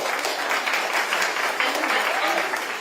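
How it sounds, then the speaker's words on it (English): Dense applause from an audience at a public meeting in Newport about a possible ICE facility, continuous and fairly loud for the whole stretch, with voices mixed in. "I'm asking you to not give audible applause because it is stalling us"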